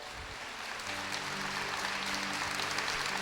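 A church congregation applauds during a sermon, a broad wash of clapping that swells and holds steady for a few seconds.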